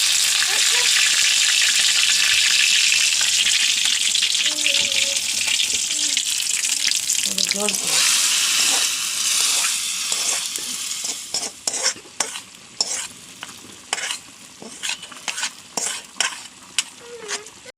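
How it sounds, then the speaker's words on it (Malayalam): Onions drop into hot oil in a clay pot and fry with a loud, dense sizzle and stirring, then the hiss fades into intermittent crackles and spoon clinks. "അപ്പുറത്തടുപ്പത്ത് ഉള്ളി കാച്ചുള്ള ചട്ടി വെച്ച് എണ്ണ ഒഴിച്ച് വെച്ചിട്ടുണ്ട്. ഉള്ളി ഇടുന്നു."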